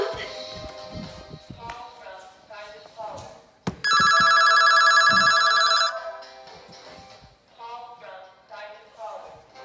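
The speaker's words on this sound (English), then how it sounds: "I hear the ringing of a telephone." A telephone bell rings loudly in one sustained burst of about two seconds midway, amid household noise and people talking before and after.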